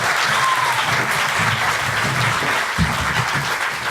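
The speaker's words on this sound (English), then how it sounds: "let's give them a round of applause" Audience applause for a theater cast at a teach-in event, a full, steady roar of clapping from a sizeable crowd, sustained evenly throughout with faint voices mixed in.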